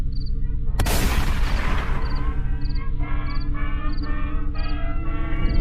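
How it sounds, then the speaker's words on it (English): A single loud gunshot-like boom in a horror story bursts out about a second in and decays into a long, echoing tail over a steady low rumble, while faint regular chirping pulses repeat in the background. "He saw the flash again, but with the sound of gunshot."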